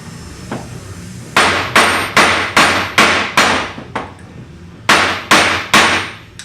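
About ten loud, ringing hammer blows land on a steel pin in an oilfield selective test tool, struck in a steady rhythm with a short pause partway through. The strikes are close and sharp, with no talk.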